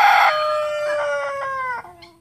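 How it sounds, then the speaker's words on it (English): A rooster crows once, close and loud, a long drawn-out call that tapers off, followed by a short cluck at the end. "I just got a new rooster named him Cogbern the Third."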